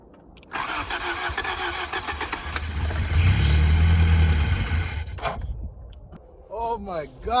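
A 1989 Honda Civic engine cranks with a rapid whirring starter, catches and roars into a loud idle, then fades as people talk excitedly nearby.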